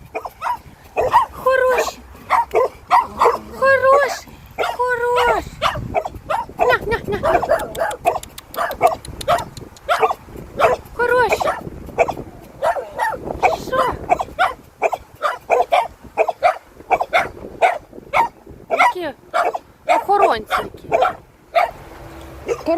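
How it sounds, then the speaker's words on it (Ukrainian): Two dogs, one larger than the other, bark loudly and repeatedly outdoors in Ireland, with rapid bursts and a few yips and whimpers, while a person talks at times. "з цими собаками домовитись не можна. Вони якісь зовсім не заспокоюються."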